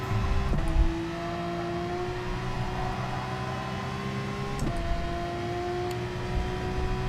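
A race car in a racing game accelerates hard, with a steady high engine whine that rises in pitch, plus two brief shifts as gears change, close and continuous throughout.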